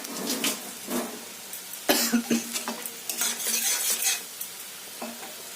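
A spoon scrapes and stirs a vegetable curry in a pan with a little water in irregular strokes while food sizzles quietly underneath, close and fairly soft.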